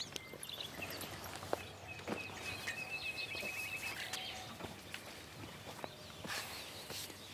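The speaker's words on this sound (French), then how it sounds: "Les rossignols." Nightingales singing in spring countryside, bright whistled phrases and chirps at a moderate distance, with faint footsteps and rustling nearby and no speech.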